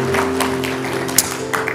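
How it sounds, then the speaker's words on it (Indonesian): Church congregation applauding during an Indonesian Christmas sermon, steady crowd clapping over a sustained musical drone from keyboard or organ, moderately loud throughout. "Beri tepuk tangan buat Tuhan kita."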